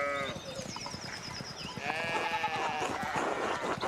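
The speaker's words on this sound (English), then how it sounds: "one of the fence rails fell and the sheep started hopping it" Sheep bleat over game music on a farm in Pentiment, a 1600s-era setting where a fallen fence rail lets the flock hop loose; several wavering bleats overlap in a steady, moderately loud stretch.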